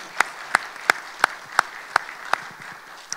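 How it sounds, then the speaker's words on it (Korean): Audience clapping at a theology forum, heard as a steady, evenly spaced run of sharp claps about three per second at moderate volume, trailing off near the end. "그래서 박수 한번 우리"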